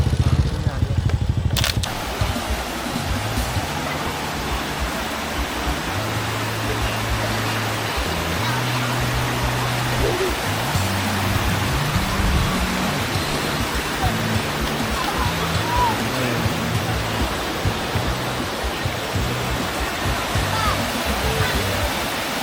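River water rushes over the rapids at Kaeng Hai in Ubon, a steady, loud broadband roar that runs throughout, with low engine-like hum and faint voices mixed in.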